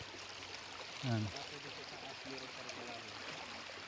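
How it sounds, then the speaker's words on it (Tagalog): A stream on a farm property babbles steadily in the background, a soft continuous wash of flowing water, while someone speaks a single short word over it. "Ito yung nakikinig natin kanina na lagaslas ng tubig"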